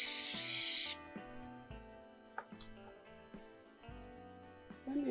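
A single steady hiss of chain cleaner aerosol sprayed onto a Kawasaki Z900 motorcycle chain for about a second, then quieter clinks and handling sounds.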